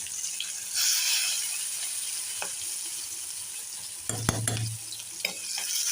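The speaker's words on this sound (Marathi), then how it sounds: "परतून घेऊया तेलावरती" Tomatoes with red and green chillies sautéing in hot oil for a simple Brahmin-style Marathi varan, a steady quiet sizzle with a few spoon scrapes and a brief louder burst of clattering stirring near the end.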